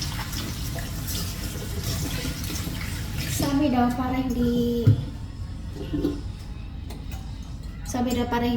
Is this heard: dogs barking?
no